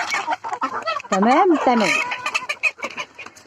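Chickens clucking and calling loudly close by, with a drawn-out squawking call in the middle among short clucks, while a person speaks briefly.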